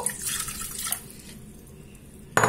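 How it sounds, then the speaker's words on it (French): Water poured into a food processor bowl, a soft running trickle that fades toward the end, followed by a brief sharper clatter. "dans mon robot, je vais commencer par mettre l'eau"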